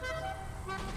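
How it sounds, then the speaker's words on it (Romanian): A car horn honks in the GTA V online multiplayer game, a loud sustained blare held for about a second over engine and traffic noise. "Dă-i claxon, dă-i claxon."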